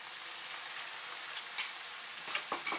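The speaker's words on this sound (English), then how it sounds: "Stir and let simmer with a lid over low heat for 15 minutes." Sticky rice with sausages, fried shallots and sauce stirred in a pan, giving a soft steady sizzle with a few scraping utensil sounds near the end.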